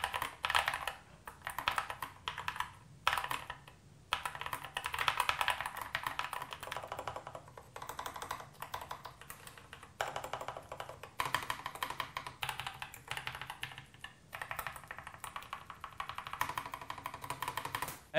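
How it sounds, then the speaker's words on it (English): Typing on a Nuphy Air60 V2 low-profile keyboard, with fast, dense clusters of soft, close keystrokes broken by short pauses and running for about eighteen seconds with no voices. "As you can hear, the keyboard sounds pretty good and it's really nice to type on"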